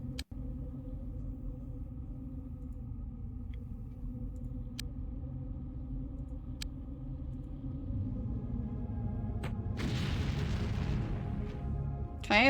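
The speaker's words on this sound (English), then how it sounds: "that worm doesn't really seem to care when there's an explosion right in its face" An explosion in the 1997 strategy game X-COM: Apocalypse, a low rolling rumble that swells into a noisy burst near the end, with faint sharp clicks scattered through and no talk.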